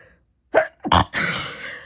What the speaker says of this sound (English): I sneeze and the kittens go away.